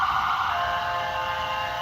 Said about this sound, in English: EMS sitting here playing with their sirens